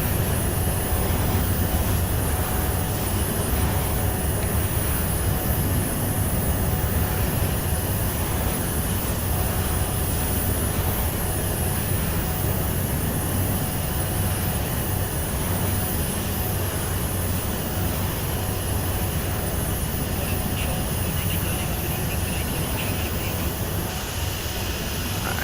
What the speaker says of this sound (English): These engines are outputting a lot more power than that.